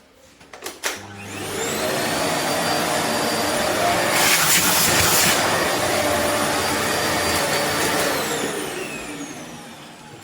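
An Amazon Basics 15KC-71EU4 bagless cylinder vacuum cleaner switches on with a few clicks and spins up to a loud, steady whining roar that holds nearly to the end, where it begins to fade slightly.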